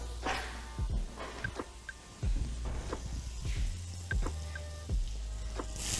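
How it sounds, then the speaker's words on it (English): A knob of butter sizzles in a hot pan with a soft, continuous sizzle, broken by several dull low thuds and handling knocks nearby. "Hot pan. In with a knob of butter."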